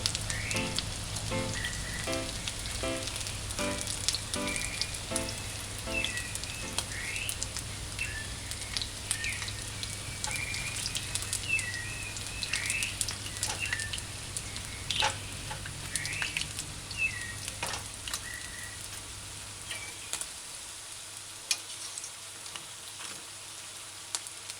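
Vegetable fritters frying in oil, a dense, steady crackling sizzle with scattered pops and bubbling that carries on for a long stretch, then eases toward the end, with no voices.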